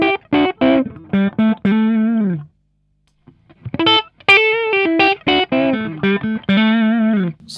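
An electric guitar played through a modified Marshall 1959 Plexi amplifier sounds clean, bluesy riffs with short chords and sustained bent notes, separated by a brief pause, close and clear with no talk.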